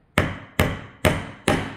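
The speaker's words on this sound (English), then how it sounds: "And I'm hitting with this hammer straight down." A hammer taps a nail into wood while a pencil box is assembled from a wooden craft kit: four sharp, evenly spaced knocks, each with a short ringing decay, loud and close.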